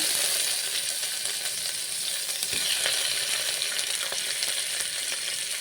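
Green chillies, tomato and curry leaves sizzle and crackle steadily while being sautéed in a pan for a fish curry, with occasional stirring scrapes throughout.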